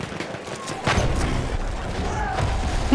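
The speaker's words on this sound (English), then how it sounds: "That wall facade just fell." A wall facade collapses during Battlefield 1 gameplay: a sudden heavy crash breaks in about a second into the clip, then a sustained rumble of debris continues beneath dense battlefield noise.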